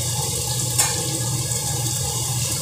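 Four medium grated onions drop into hot oil in a pan and fry with a steady, close, even sizzling hiss throughout, a faint clatter near the start and no talking.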